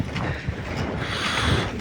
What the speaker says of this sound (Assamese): কেনে বতাহ দিছি